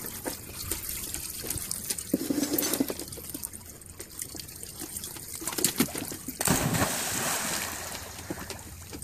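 A Husky splashes in water, sloshing in uneven bursts close by, with trickling between and a bigger splash near the end.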